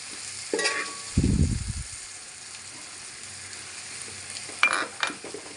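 Oil sizzles softly under a tomato masala with roasted chilli powder in a pan, with a brief stirring scrape and a clatter near the start and a louder scrape near the end.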